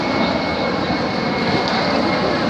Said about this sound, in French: Il est en train d'atterrir, les gens.